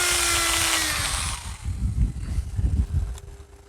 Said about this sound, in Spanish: estamos utilizando un taladro generando energía infinita de la nada